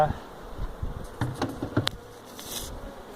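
Close buzzing of many honey bees at a hive during oxalic acid vapor treatment for varroa mites, a steady insect hum with a few louder passes and soft ticks, no talking.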